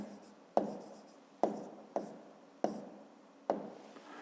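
A pen writes down a maths answer, giving five sharp taps spaced unevenly and each trailing into a soft scratch, close and quiet, with no talk.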